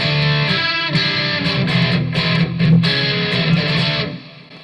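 Electric guitar on a crunchy overdriven tone through a Roland GT-1000 effects unit, a few seconds of gritty, sustained chords played up close before fading out.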